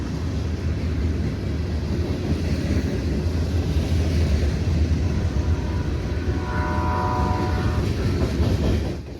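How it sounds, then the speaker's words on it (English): A westbound CSX manifest freight train rolls past with a steady heavy rumble and faint rail clatter, and its horn sounds briefly partway through, somewhat distant. "CSX was on a roll with another westbound."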